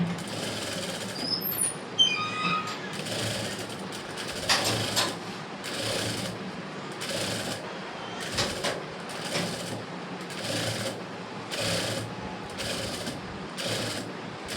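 A sewing machine stitches a double seam joining the sleeve of a blouse, whirring in short regular bursts with brief stops between them, fairly quiet and close, with faint chirps at the start.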